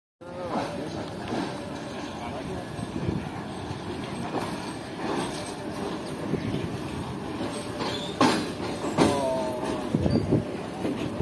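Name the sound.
Pak Business Express train arriving at Karachi Cantt platform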